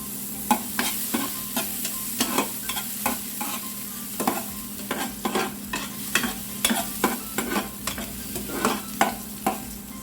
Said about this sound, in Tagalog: Para makapag-gisa na tayo. Lagyan na natin ang bawang.